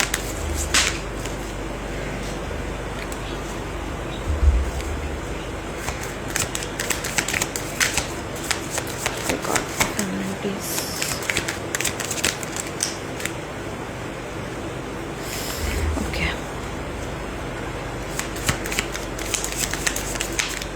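Oracle cards are shuffled by hand in a continuous papery riffle and rustle, with a few louder thumps and flicks at the start and near the middle of the sequence.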